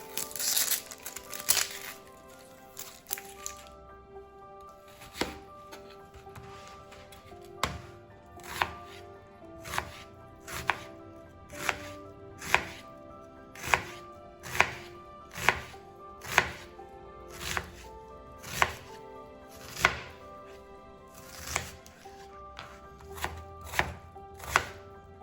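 A knife chops a peeled onion on a board for a potato soup: a quick burst of cuts, then a long run of sharp, evenly spaced single chops, close and crisp, with no talking.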